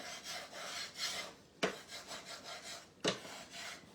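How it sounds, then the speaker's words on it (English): A metal scraper rasps repeatedly across a surface, lifting old wallpaper paste and wax off wood for a distressed garden sign, a steady rubbing scrape broken by two sharper strokes, close and alone. "I'm scraping wallpaper paste now."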